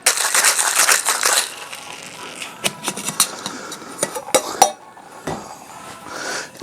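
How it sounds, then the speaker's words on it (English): Ice rattling hard inside a cocktail shaker with margarita mix and tequila for a keto margarita, a dense clattering burst that turns into scattered clinks and knocks as the shaking slows, with no voices. "Put some ice in that, shake it all up"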